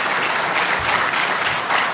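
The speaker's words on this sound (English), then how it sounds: "let's have just a quick round of applause for our panelists" Conference audience applauding panelists after business opportunity presentations, a steady wash of many hands clapping throughout, close and even in level.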